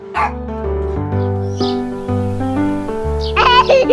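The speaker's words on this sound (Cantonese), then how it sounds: "毛毛狗高興了，尾巴搖啊搖" A dog sound effect in a children's story reading, with short yips and whimpering barks mixed among tonal, voice-like sounds, close and fairly loud.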